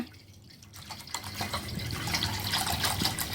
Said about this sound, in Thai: เราจะเติมน้ำสามลิตรก่อนนะ